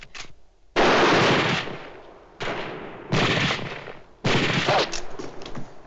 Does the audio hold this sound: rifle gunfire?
yes